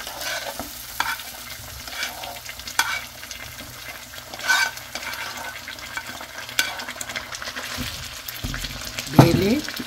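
Beef chilli is stir-fried with crunchy fried pieces tipped into the meat, giving an even sizzle broken by repeated scraping and clanking of a spatula against the pan, close and fairly loud.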